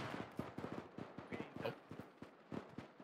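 Rapid bursts of enemy gunfire in ARMA 3, a war game set in a zombie-infested land, crack out in quick irregular volleys, loud and close, firing almost without pause.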